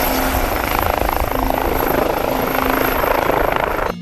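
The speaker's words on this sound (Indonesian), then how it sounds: "Wah, ini helikopter penumpang." A passenger helicopter in the Metal Slug video game hovering close by, its rotor producing a loud, steady chopping roar for about four seconds before cutting off abruptly at the end.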